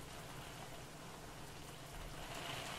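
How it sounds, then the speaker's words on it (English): Steady, dense rain in the indie horror game Think Twice, driven hard against a house's windows; a continuous wash of hiss and patter that swells slightly louder near the end, with no voices. "that rain sounds like it's coming, like, you know, horizontal into the windows"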